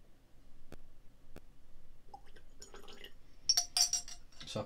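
Water poured into a glass of Scotch whisky, a Deanston 2008 eleven-year sherry cask single malt, close by: a short trickle and splash with light glassy clinks, after a quiet start.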